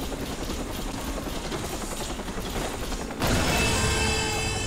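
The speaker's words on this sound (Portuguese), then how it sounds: "Agora eu tenho que destruir o helicóptero." Helicopter in the Watch Dogs Spider Tank minigame, a continuous loud whirring rotor chop that swells abruptly louder partway through amid game mechanical noise.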